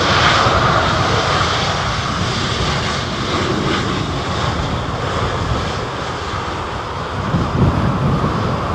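An Aer Lingus jet aircraft at London Heathrow Airport gives a loud, continuous engine roar with broad rushing noise and some wind buffeting, steady throughout with no voices.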